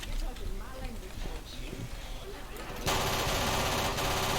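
A submachine gun (a MAC) fired in the zombie shooter Left 4 Dead 2, starting as a dense, loud burst of rapid automatic fire partway through, after a stretch of quieter game noise with someone talking.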